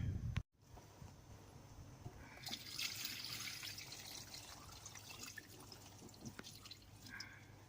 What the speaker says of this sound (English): Now I just need to put some water in.